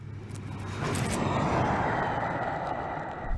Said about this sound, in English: Here comes the Tesla now, though.